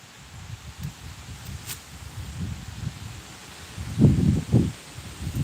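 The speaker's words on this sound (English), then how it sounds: "I'm also battling a lot of wind today too." Wind blows outdoors and buffets the microphone in uneven low rumbling gusts that grow stronger near the end, with faint rustling underneath.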